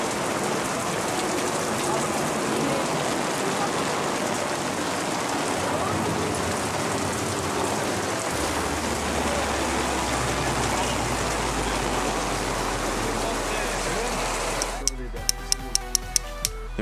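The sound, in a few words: heavy rain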